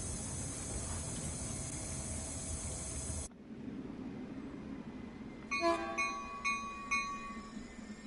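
A Caltrain diesel train in the Train Sim World 5 game pulls to a stop at a platform: a loud hissing rush cuts off abruptly, leaving a low rumble, then a few sharp metallic squeals and chimes ring out near the end.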